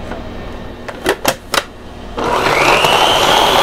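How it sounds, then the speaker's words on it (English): A food processor blends peeled mango with apple cider vinegar: a few short clicks and knocks, then the motor kicks in with a steady, loud whirring grind close by. "I'm just going to add it to my ghee chef food processor"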